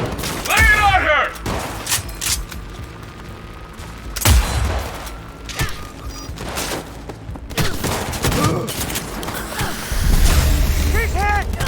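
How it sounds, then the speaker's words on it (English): Heavy gunfire from a Cyberpunk 2077 firefight, with sustained bursts and booming shots near and loud, while voices shout over the shooting throughout. "Keep firing!"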